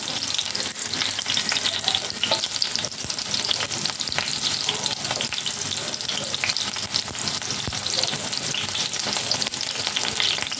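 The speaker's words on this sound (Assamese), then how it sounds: "তেলত দিওঁতে অকণমান ফুটি উঠিছে দেখিছেনে তেলবিলাক ফাটি গৈছে" Sliced onions fry in hot oil in a pan, a steady, close sizzle with crackling spatters that runs unbroken for about ten seconds, with no talking.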